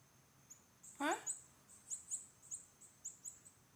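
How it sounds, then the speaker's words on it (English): A small bird outside a bedroom window chirps in short, bright, high notes, one louder trill near the start followed by a steady series of quick tweets, moderately distant against a quiet outdoor background. "That little bird chirping away, waking me up."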